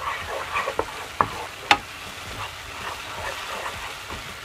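Stirring in a pan of black-eyed pea dish seasoned with salt, black pepper, pepper flakes and red pepper powder: a few soft scraping clicks and taps over a quiet, low sizzle.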